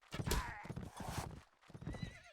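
Horses gallop in the Mount & Blade: Fire & Sword video game during a multiplayer final match, with loud, close, rapid clip-clop hoofbeats and whinnies, and a voice talking faintly underneath.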